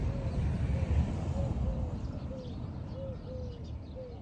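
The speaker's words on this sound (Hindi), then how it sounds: "उस साइड पे बहुत सारे पिजन्स हैं उनकी आवाज़ें हैं" Pigeons cooing from trees at Love Lake in the UAE, a series of soft, evenly spaced coos at moderate distance over a steady outdoor background with low rumble.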